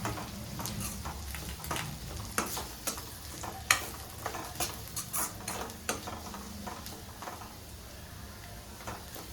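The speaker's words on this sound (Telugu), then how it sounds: "ఇవన్నీ కొంచెం ఈ ఆయిల్లో కొంచెం బాగా ఫ్రై చేసుకోవాలండి." Chili powder and garam masala fry in oil for a Kerala-style squid curry: a quiet, even sizzle with scattered stirring scrapes and light clinks of a utensil against the pan.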